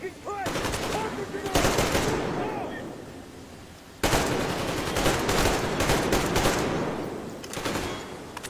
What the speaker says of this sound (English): These guns are not very accurate.